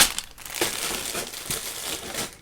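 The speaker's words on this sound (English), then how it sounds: "Sorry about all the crumpling bag noises." Plastic bag crinkling and crumpling in irregular bursts while LEGO pieces are sorted, close and fairly steady with no talking.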